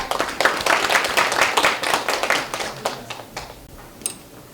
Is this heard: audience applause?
yes